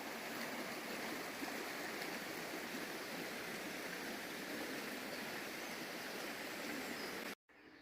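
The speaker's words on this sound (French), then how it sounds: "Et le petit ruisseau qui continue à nous accompagner." Small stream flowing steadily beside a hiking trail on the GR65 pilgrimage route toward Compostela, a continuous close broadband babble of running water with no talk, cut off abruptly near the end.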